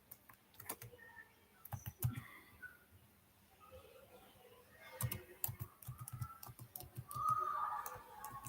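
Code being typed on a computer keyboard, quick irregular bursts of soft key clicks with short pauses, fairly quiet and close.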